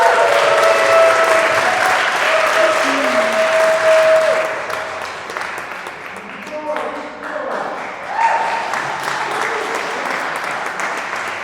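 An audience at a community poetry celebration applauds a poet with dense clapping that swells and then thins in the middle before picking back up, while voices carry over it.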